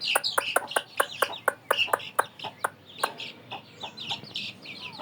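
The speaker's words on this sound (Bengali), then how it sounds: "মুরগিগুলো এই ঘরে থাকে তো, এই জন্য সকালবেলায় ছাড়া হয়েছে।" Chickens just let out of their coop in the morning, clucking close by in a rapid series of sharp, repeated calls that come in quick bursts and then grow looser and softer.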